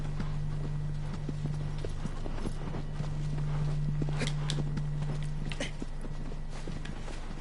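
Steady clip-clop of horse hooves at a fast, even rhythm, continuous and fairly close, with a low engine-like hum underneath, from a horse in the video game Shadow of the Colossus.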